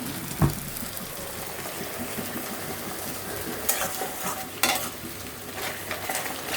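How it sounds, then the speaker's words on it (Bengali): Spice paste for a rohu fish and radish curry is stirred and fried in a pan, making a soft continuous sizzle broken by a few sharp scrapes of the spoon. "মশলাটা একটু ভালো করে কষিয়ে নেব।"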